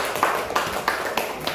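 A classroom of students claps for everyone, soft, muffled hand claps in a loose, slow rhythm heard at a distance.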